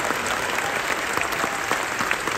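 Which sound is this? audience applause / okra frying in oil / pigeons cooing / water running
audience applause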